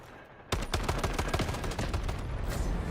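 Ash-12 rifle fire in Delta Force, a sudden burst after a quiet start that settles into a continuous run of loud, closely spaced shots until the end.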